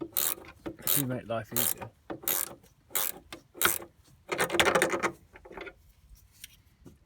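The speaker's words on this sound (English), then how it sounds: "let's use the pleasure of ratchet spanners" A ratchet spanner tightens seat bolts inside a VW T25 van, with rapid clicking ratchet bursts in repeated close strokes and a brief spoken remark partway through.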